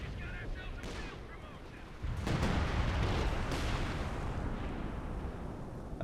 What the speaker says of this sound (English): We have artillery coming in from concentration barrage.